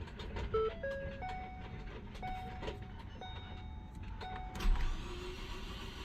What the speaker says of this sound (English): Sounds like a broken timing belt.